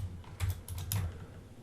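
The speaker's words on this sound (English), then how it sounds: "I'm using different language keyboard." Someone types on a computer keyboard with a foreign-language layout, producing close, quiet bursts of rapid key clicks with short pauses between them and no speech.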